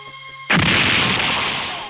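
A propeller-driven flying-wing Mini 4WD car switches on and its propeller bursts into a loud, steady, close whirring roar that fades slightly as it runs.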